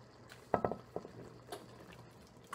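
A watery ground turkey and vegetable gravy mixture poured into a square Pampered Chef pan for shepherd's pie, with a few soft splats and scrapes followed by a faint wet patter, quiet and close.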